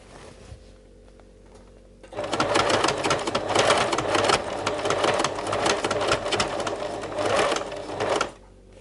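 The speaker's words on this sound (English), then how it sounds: "I am sewing around a few millimeters from the edge," An electric sewing machine stitches a few millimeters in from the edge of a leather shoulder handbag. After a quiet start it runs as a steady, fast, close mechanical whir for about six seconds, then stops abruptly.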